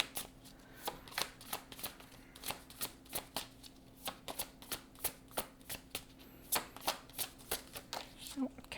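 A deck of oracle cards being shuffled, with crisp rhythmic riffling bursts repeating steadily and close to the microphone, while a soft voice speaks in the background.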